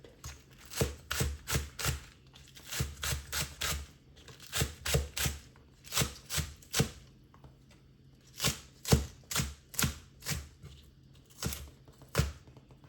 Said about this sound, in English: We will cut the onion.